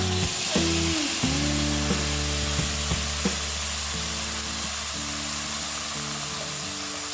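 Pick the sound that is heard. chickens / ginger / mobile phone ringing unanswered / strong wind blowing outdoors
ginger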